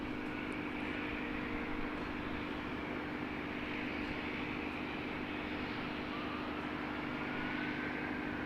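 An ATR turboprop airliner moves at Christchurch Airport in foggy weather, giving a steady, even engine drone from a moderate distance that holds without a break over a broad background rumble.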